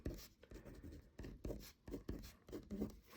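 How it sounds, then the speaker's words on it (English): Pen scratching out an algebra equation on paper, in short rhythmic bursts of strokes with brief pauses between them, close and fairly quiet, with no talking. "I'm going to write down my equation."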